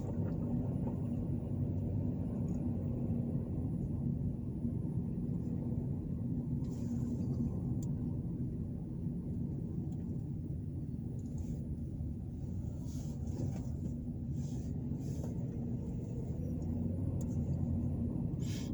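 A car rolls through downtown Lewisburg, Tennessee, with a steady low road rumble and engine drone heard from inside the cabin, continuous throughout with a few faint clicks on top.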